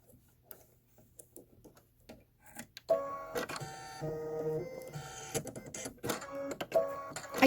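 An embroidery machine stitching dark gray thread on a quilt-style fire station design, starting with sparse ticks, then breaking into a rapid, rhythmic needle clatter with brief pauses and bursts, close and alone.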